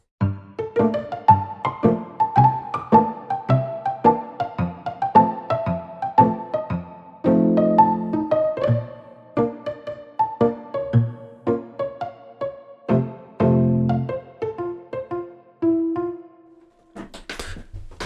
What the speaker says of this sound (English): it almost sounds like a marimba phone or like a wood block instrument